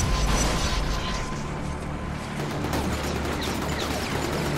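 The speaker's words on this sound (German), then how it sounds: "Er stand neben einer Explosion" A loud, sustained blast of explosive noise with crackling bursts and a deep rumble, dense and continuous throughout, with no talking.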